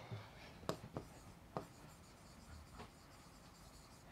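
Chalk or marker writing on a board during a physics lecture, a few faint scratchy strokes and taps spaced irregularly in an otherwise quiet room.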